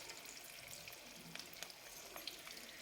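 Spoonfuls of moong dal bhaji batter fry in hot oil, giving a soft, continuous crackling sizzle with scattered small pops, fairly faint and steady throughout.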